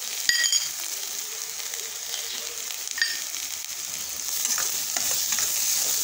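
Spices fry and sizzle in a hot pan for a spicy Khandeshi shev bhaji gravy, a steady crackle broken by a few sharp metallic clinks and scrapes as a spoon stirs, with no voices.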